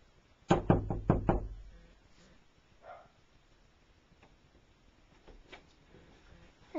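Four quick, loud knocks on a bedroom door in a house, evenly spaced in a sharp burst near the start, followed by faint room noise and a few soft, distant clicks.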